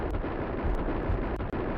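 A grenade blast in the video game Max Payne, a dense, loud, roaring explosion rumble filling the short clip with heavy low-end boom and debris noise, a few sharp crackles on top, no speech.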